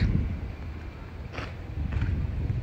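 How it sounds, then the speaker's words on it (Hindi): Outdoor wind blows steadily on a hot day at a roadside while someone waits for an auto-rickshaw, a continuous low rumble with brief gusty swells and faint background traffic. "हवा चल रही है"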